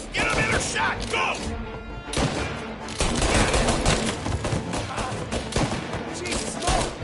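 Rapid bursts of gunfire rattle through a shootout in the video game Mafia, dense overlapping shots and heavy impacts, loud and close, with a voice shouting in places.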